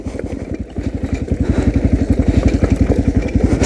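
A Suzuki RM 250 motorcycle ridden off-road on a rough extreme trail, its two-stroke engine pulsing loud and close in a rapid, even beat that climbs slightly in pace, with no voices.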